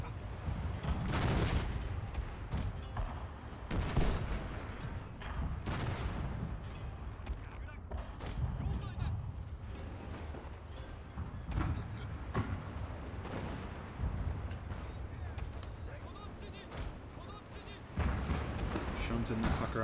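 Massed troop gunfire from a Shogun 2 Total War battle, a steady crackle of volleys and distant reports under battle din, with a commentator talking throughout.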